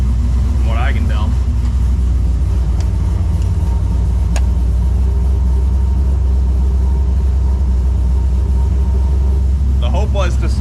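A Nissan 240SX with a swapped LS V8 idles after sitting months with ethanol fuel, a loud steady low rumble running throughout, indoors in a garage, with brief voices near the start and end.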